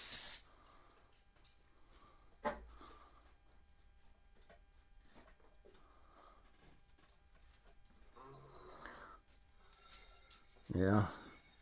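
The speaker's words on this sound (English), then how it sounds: "So we'll spray this off once more" A few short hissing sprays of cleaner onto the front brake master cylinder of a 1987 Honda GL1200 Goldwing burst out, one near the start and others later, between quiet stretches where a person talks softly.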